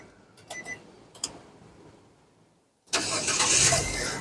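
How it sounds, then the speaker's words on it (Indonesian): A 2013 Nissan Grand Livina 1.5 SV automatic is started: a few faint clicks and a brief cranking sound, then the engine catches and runs loudly and steadily near the listener. "Sekarang kita coba start mobil ya."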